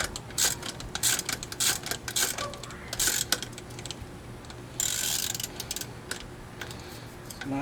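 Rapid ratchet clicking in bursts as a strut bolt is tightened on a 2006 Chevy Aveo, close and crisp, with short pauses between runs of turns and one longer, denser stretch.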